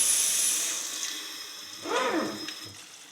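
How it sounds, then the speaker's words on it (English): Hot water poured from a faucet or container over horseshoes soaking in bleach, a steady hiss with a brief fuller gush of running water midway, close and fairly quiet. "And now we will add just a little bit of hot water"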